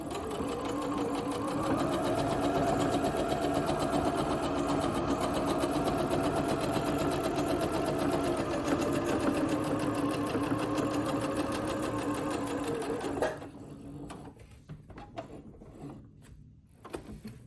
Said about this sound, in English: we put our needle down, turn your fabric, and continue to sew.